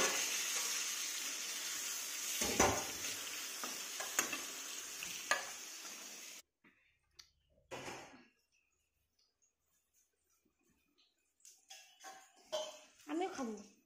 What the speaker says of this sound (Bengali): বেগুন ভাজাটা পাল্টে দেবো পুরো লাগবে না